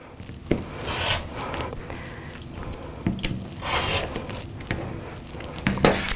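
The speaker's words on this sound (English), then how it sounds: "I'm going to place this on the actual seams that I sewed and trim 2 sides at once." Rotary cutter slicing along the edges of a cotton nine-patch quilt block held under a square acrylic ruler, giving a few short scraping and rubbing strokes at close range with light handling noises between them.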